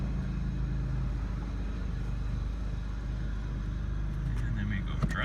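Idling engine of a 2002 Pontiac Grand Prix running after sitting five years, a steady low rumble close by, with a few light clicks near the end.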